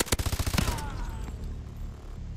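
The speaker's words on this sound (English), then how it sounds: "I think the guns, when they shoot on this game, it sounds so weird." Rapid bursts of automatic gunfire from futuristic weapons in the shooter game Call of Duty: Advanced Warfare, a fast rattling volley over the first half second followed by a lingering synthetic ringing tail and low rumble, with no talk.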